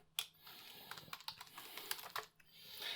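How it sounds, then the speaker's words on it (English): Soft, quiet keystrokes on a computer keyboard, irregular taps in short clusters over a few seconds with a faint background hum. "So I'm going to go ahead and type that in real quick."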